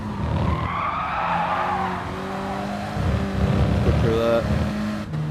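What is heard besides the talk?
Renault Clio Cup front wheel drive race car, from a racing video game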